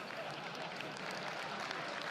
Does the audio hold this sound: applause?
yes